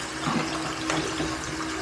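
Water running from a tap or being poured into a pot for boiling, a steady splashing hiss with a few brief louder gushes, close and continuous for a couple of seconds.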